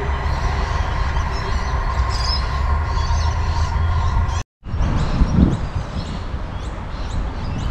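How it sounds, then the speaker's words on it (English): An electric 4000-class passenger train bound for Gawler crosses the bridge over the Little Para River. It makes a steady, loud rolling rumble with wheel and rail noise, broken by a brief cut, then continues strongly to the end. "Here comes electric 4000 passenger train from LA to Gawler."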